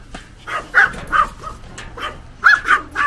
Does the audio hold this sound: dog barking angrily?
yes